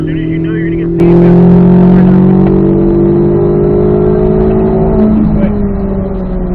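Chevrolet Corvette C8 Z06 accelerating on the Spring Mountain race track, a loud steady engine drone that jumps up sharply and holds strong through the run, with an instructor's voice talking over it.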